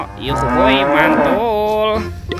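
A toy cow lets out one loud, close electronic moo, a drawn-out tonal lowing that rises and bends in pitch over about two seconds, with a voice speaking briefly around it.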